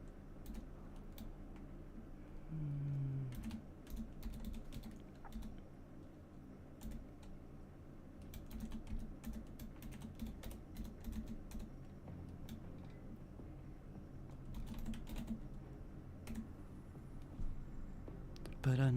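Intermittent typing on a computer keyboard, bursts of close, light keystrokes with pauses between, and a voice speaking at times.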